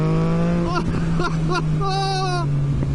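A Yamaha XSR900 motorcycle engine drones loudly and steadily at high throttle, close to the rider, with someone talking over the engine throughout.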